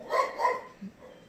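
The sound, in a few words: dog barking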